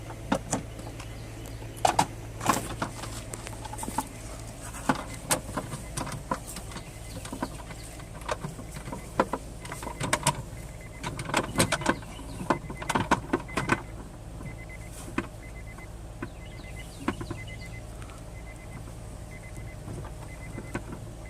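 A motorized brake-pedal device whirs in repeated short electric bursts as its jaws move up and down, with clicks and a faint continuous background hum.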